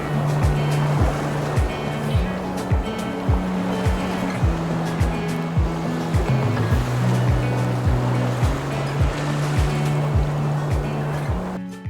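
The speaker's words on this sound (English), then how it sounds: "you're getting these waves lapping up against the shore" Strong wind buffets a lakeshore at Cwm Idwal while small waves lap and splash against the stones in a steady, repeating rhythm, loud and close throughout with no voices.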